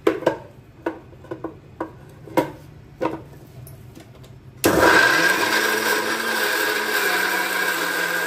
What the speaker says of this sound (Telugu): ఇప్పుడు ఈ ఆనియన్ ని మనము పేస్ట్ చేసుకుందాం. మిక్సీలో వేసి నేను పేస్ట్ చేసుకుంటా.